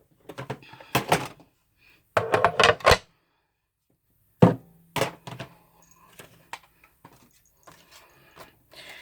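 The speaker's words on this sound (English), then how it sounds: "There's my magnetic platform, and then I'm putting down my cutting base." A magnetic platform and cutting base set down on a Big Shot die-cutting machine, producing a few clustered clacks and thunks, then a sharp knock and scattered faint taps, close with quiet gaps between.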